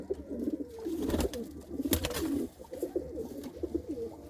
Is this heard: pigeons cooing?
yes